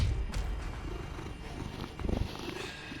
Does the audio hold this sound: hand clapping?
no